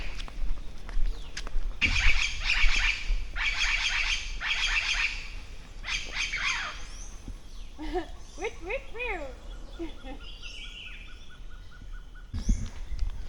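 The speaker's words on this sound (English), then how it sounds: "These are the parrots." Parrots squawking in bursts of harsh, repeated calls at a moderate distance, followed by sparser chirps and calls over a faint background, with no talk over the calls.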